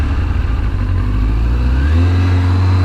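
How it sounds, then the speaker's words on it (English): A motorcycle engine revs hard and close as the rider gives it throttle trying to pop a small wheelie, the steady loud drone stepping up in pitch near the end. "let's see if I can pop a little wheelie here"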